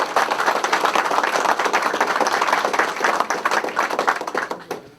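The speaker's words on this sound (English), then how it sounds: "So I think that deserves a round of applause." Audience applause at a press conference for a food plant expansion, dense steady clapping from many hands that runs loud and even before thinning out and stopping near the end.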